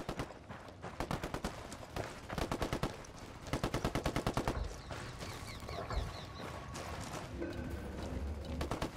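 Automatic gunfire in the Ghost Recon: Wildlands video game, several rapid bursts of close, loud shots spaced a second or two apart, followed by sustained rattling fire and scattered effects.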